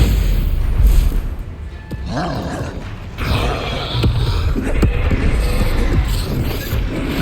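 Spell blasts in a Hogwarts Legacy wizard duel, a Confringo fire spell among them: repeated booming bursts and crackling impacts over busy combat noise, loud and close, with brief creaks and clatter between hits.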